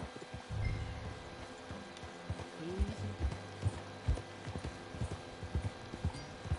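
Horse hooves clip-clop in an uneven trotting rhythm in Red Dead Redemption 2, fairly close, with a faint voice underneath.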